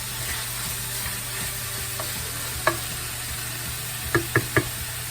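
Potato stroganoff being stirred in a pan, a soft steady sizzle with a few sharp knocks of the spoon against the pan near the end, close and alone.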